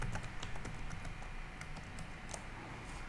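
Quiet keystrokes on a computer keyboard as a password is typed, a brisk run of light clicks at a steady pace, faint under a constant background hiss with no talking.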